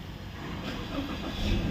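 A Toyota 86 with a P1263 check-engine fault and low power turns over and fires up from cold, its engine noise swelling and growing louder over a brief moment.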